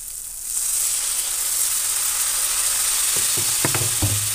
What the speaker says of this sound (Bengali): এবার এই মশলাটাকে ভালো করে নাড়াচাড়া করে কষিয়ে এতে দিয়ে দেবো অল্প জল